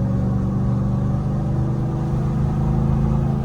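A 2024 RAM 1500 TRX Final Edition pickup with a supercharged V8 accelerates, giving a steady, loud, deep engine rumble that holds throughout with no voices.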